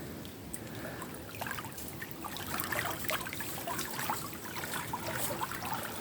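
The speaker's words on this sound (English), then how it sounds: "The sound of the water." Gentle trickling water by a lake in an emerald forest, a soft, steady flow that continues without break, with faint higher splashes and ripples scattered throughout.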